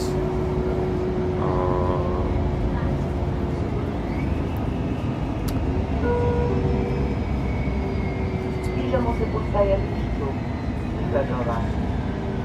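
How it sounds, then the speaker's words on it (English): A Mercedes-Benz Citaro C2 NGT city bus in Ljubljana rides along with its engine rumbling, while a faint high whistle from its Voith transmission rises and falls above the drone. Voices are faintly heard at times. "You guys can probably hear the Voith whistle."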